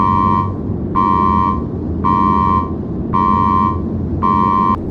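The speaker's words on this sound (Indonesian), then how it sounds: "alarm peringatan kemiringan pesawat mulai berbunyi" Aircraft bank angle warning alarm on Adam Air flight 574: a loud electronic tone repeats in five regular pulses about a second apart over a constant low engine-like rumble, with no voices.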